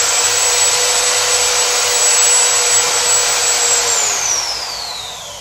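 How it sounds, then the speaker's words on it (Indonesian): A Bosch GSB 500 RE 13mm impact drill runs with a loud, steady, high-pitched whine, then its pitch drops as it spins down near the end, with no speech over it. "Jadi, para sahabat bisa melakukan pengeboran dengan melakukan mengunci atau dengan melakukan menekan secara manual switch-nya."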